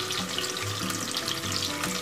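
Marinated eggs fry in hot oil in a pan for a pepper egg curry, giving a steady, close sizzling hiss with faint bubbling and no voices.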